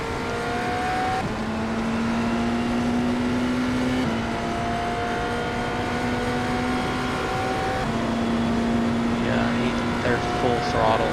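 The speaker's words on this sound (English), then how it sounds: "Yeah, they're full throttle into the corner." Race car engines held at full throttle in the iRacing sim, with a Porsche among the cars approaching a corner at Indianapolis. A loud, steady, high-pitched engine drone continues throughout, its pitch stepping and shifting as cars sustain power.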